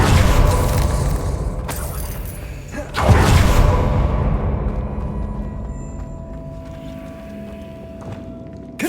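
A Revelio spell cast in Hogwarts Legacy gives a loud broadband whoosh, swells again near three seconds, then fades into a sustained shimmering ring with a steady tonal hum.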